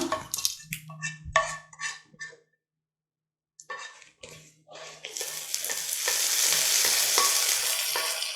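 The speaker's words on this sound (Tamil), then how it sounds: "இப்போ நம்ம தாளிச்சாச்சு." Spices tempering in hot oil for hotel-style coconut chutney, a loud steady sizzle rising and filling the second half, preceded by scattered stirring and clinks of a pan and utensils, no talking.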